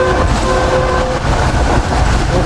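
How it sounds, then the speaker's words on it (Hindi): The Pak Business Express passenger train runs at speed with a loud, steady rumble and rattling wheels, while a sustained horn tone sounds over the noise. "तो स्पीड काफ़ी अच्छी है इस वक्त ट्रेन की।"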